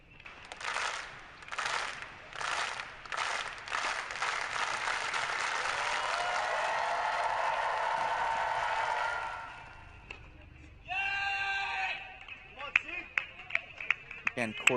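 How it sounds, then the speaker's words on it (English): Spectators at a college tennis match do a slow clap, a handful of spaced, echoing claps that quicken into a long roll of applause, then fade out before a commentator talks. "How does the slow clap sound at USC, Westhoff?"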